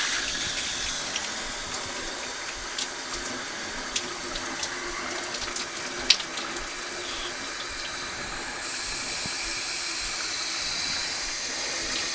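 Water runs steadily from a Moen Posi-Temp shower faucet after a cartridge replacement, a continuous close hiss with a few faint drips and clicks and no voices.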